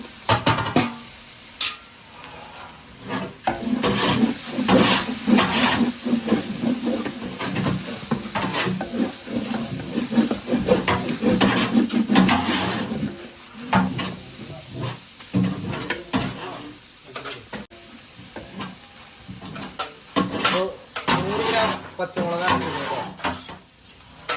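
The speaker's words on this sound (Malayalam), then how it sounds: "ഇഞ്ചി വെളുത്തുള്ളി നല്ല മൂത്തുണ്ട് ഇനി തക്കാളി ഇട്ട് കൊടുക്കാം" Tomatoes dropped into a pan of browned ginger, garlic and green chilli for biryani, sizzling and frying steadily with stirring and scraping, while a person talks over the cooking.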